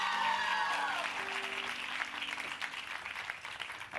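Studio audience applause on the Salam Zindagi talk show set: dense, steady clapping at moderate level lasting the whole stretch, with some voices and a brief tonal sound near the start.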